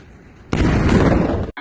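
A loud explosion in Beersheba, southern Israel, bursts abruptly after a quiet lead-in as a dense, broadband blast lasting about a second before cutting off.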